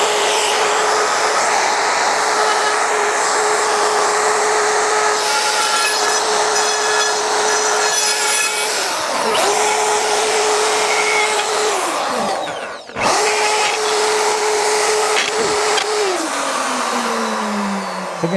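Router fitted with a router guide cutting a quarter-inch-deep groove along a wooden harp soundboard: a loud, steady high whine with harsh cutting noise, holding pitch for long stretches, dipping briefly near the end and winding down at the close.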